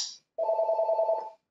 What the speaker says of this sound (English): I always forget to mute my phone.